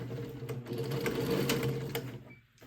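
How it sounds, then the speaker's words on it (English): A sewing machine runs a steady whirring top-stitch pass along the edge of crossbody bag fabric, close and continuous before slowing to a stop. "Now we're going to take a second pass and top stitch along this edge."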